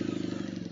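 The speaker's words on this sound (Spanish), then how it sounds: "vamos a ver qué tanto estorba el sonido de la moto y el sonido del viento con el casco." Motorcycle engine drone mixed with wind rush, as heard from inside an open flip-up helmet while riding, a steady low hum with a rapid pulsing rhythm throughout.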